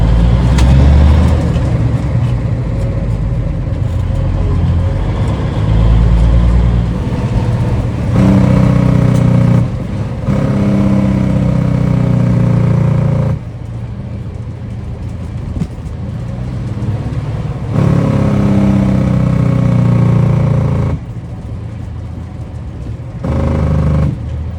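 A Smokey and the Bandit tribute truck drives along, its engine a loud, steady, close drone that shifts in pitch and level as it changes gear.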